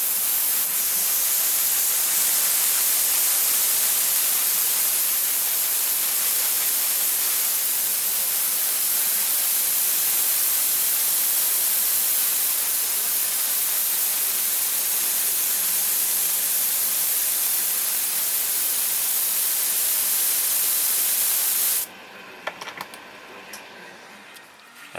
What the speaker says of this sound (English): We're going to be airbrushing gloss white on our little astronaut friends here.